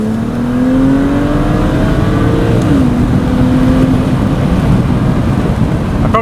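BMW 135i with the N54 twin-turbo engine dropping to second gear and pulling hard, engine note climbing in pitch, dipping briefly at the shift, then rising again, loud from inside the cabin with no talk.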